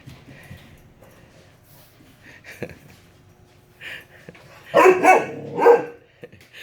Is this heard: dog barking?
yes